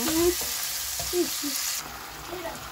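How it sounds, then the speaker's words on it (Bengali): A spice paste with tomato sizzles and fries in a pan, with a steady hiss and intermittent stirring scrapes close up. A faint voice can be heard now and then. "ভালো করে মশলাটা কষে নেব।"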